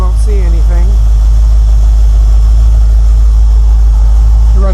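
A car engine fitted with a Holley 4160 carburetor idles steadily at operating temperature, a continuous low rumble throughout, with a brief voice speaking near the start.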